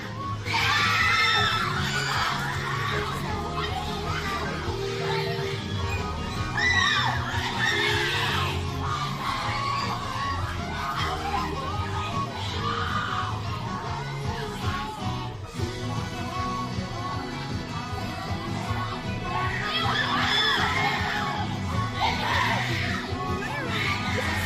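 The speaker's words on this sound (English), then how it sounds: "Do they really have to scream every time a Vocaloid woman appears on screen?" A crowd at a Vocaloid concert screams and shrieks loudly and continuously, high excited yells swelling in waves and filling the whole stretch.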